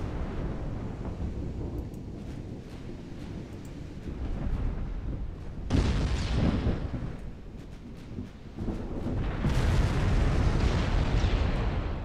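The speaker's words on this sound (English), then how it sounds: "That's why I'm manually targeting the escorts with my secondary guns." A battleship's secondary guns fire at escorting ships in the Ultimate Admiral Dreadnoughts naval video game, sending repeated booming blasts and rumbling surges over a constant low roar of battle.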